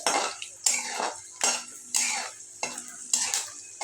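Peanuts frying in hot oil in a pan, stirred with a metal spoon in repeated scraping strokes, about six or seven, each with a sizzling rush, close and alone.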